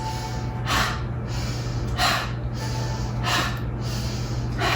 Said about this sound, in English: Inhaling through the nose and exhaling out the mouth.